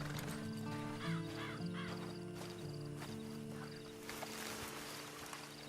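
A horse in the video game Red Dead Online whinnies in short repeated calls over a steady ambient background, moderately close, with no talking.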